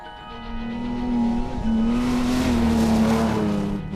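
Rally cars and pickups from a national class race across open desert sand, one engine droning loud and near as it holds a steady high note, then a brief dip and a rising whoosh as it passes.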